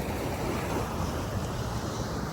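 Sea waves wash steadily onto Alappuzha beach on the Kerala coast, a continuous close hiss of surf mixed with wind buffeting the microphone.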